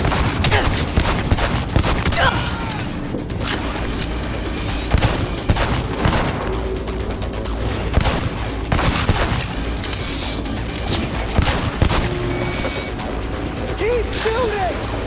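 Gunfire in the video game Cyberpunk 2077: dense, continuous bursts of automatic shots and booms rattling throughout a close, loud firefight, with voices shouting in between.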